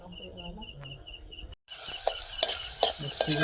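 Onion and garlic frying in oil in a pot while being stirred, a crackling sizzle with periodic scraping clicks of the stirring utensil, preceded by a quieter stretch with chirping crickets in the background.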